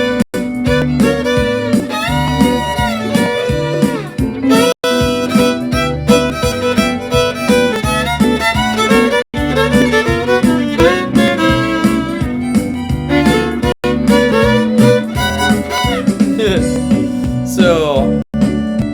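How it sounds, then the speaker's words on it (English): Country-style fiddle plays swingy double stops, a continuous, loud run of two-note harmonies in a bouncing swing rhythm, with brief pauses between phrases and no talking. "It's another set of double stops that I call the swingy double stops."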